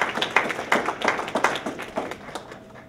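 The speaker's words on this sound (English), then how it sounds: "they deserve a round of applause" A small group claps at a union meeting in a short, fairly close burst of distinct hand claps that thins out and fades toward the end.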